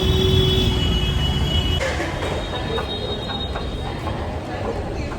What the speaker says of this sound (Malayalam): Waiting for my metro to come.